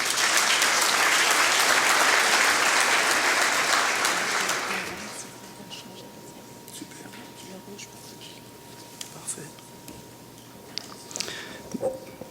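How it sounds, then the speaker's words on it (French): An audience at a conference on French dairy farms claps loudly for about five seconds, then the applause fades to scattered claps and quiet room noise. "Alors, je demande de l'applaudir."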